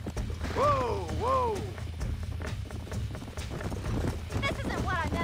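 A horse gallops and bucks in the Red Dead Redemption video game, with close hoof clatter and two sharp whinnies early on, then more whinnying near the end, all under game voices talking.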